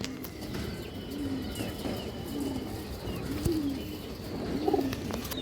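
Khoyragola female pigeon cooing, soft low coos repeating every second or so against a steady background hum and faint chatter of other birds.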